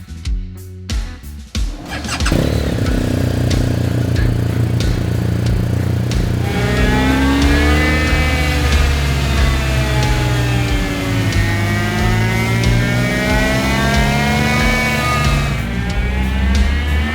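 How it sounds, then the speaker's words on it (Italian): A motorcycle engine with a standard stock ECU starts and revs hard on a dyno test bench, a sustained loud roar climbing steadily in pitch, close and continuous. "Ed eccoci pronti con la nostra moto che è montata sul banco prova."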